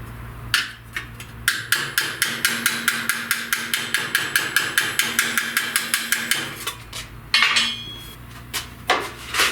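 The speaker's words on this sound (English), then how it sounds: "I'm going to lay it like here and hammer right here and flatten out some of that bend" Rapid, steady metallic hammer blows ring out on a steel fender patch panel of a 1969 Chevrolet C10, dozens of sharp strikes in a row, loud and close, with a few scattered knocks before and after.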